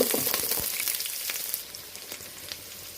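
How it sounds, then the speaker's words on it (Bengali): Onion and garam masala (cardamom, cloves, cinnamon, bay leaf) frying in oil with a paste, a soft continuous sizzle with crackles that fades to a quieter hiss, no talking. "পেঁয়াজ আর গরম মশলাটা আমি এটা একটু ফ্রাই করে নেব"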